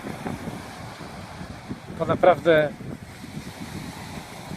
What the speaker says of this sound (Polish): kiedy tak spoglądamy na to morze, na ten piasek